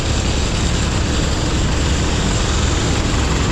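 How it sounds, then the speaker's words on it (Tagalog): A farm tractor engine runs loud and close while refuelling near a rice field, a steady, heavy mechanical drone with a constant low rumble and no pauses. "Laka ng traktora oh."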